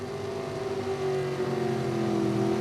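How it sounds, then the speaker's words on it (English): A drag racing car idles and revs at the start line at a national event, a steady, tonal engine drone with rhythmic pulsing that builds slightly in loudness, no talk heard. "In a moment, you're going to hear those revs start to build up. Van Dyke's got the revs up."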